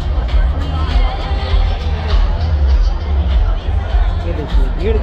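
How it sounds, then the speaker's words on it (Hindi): A large, dense crowd at an Ambedkar festival keeps up a continuous roar of overlapping chatter, loud and steady over a deep low rumble throughout. "बहुत ही ज़्यादा भीड़ है यहाँ पर।"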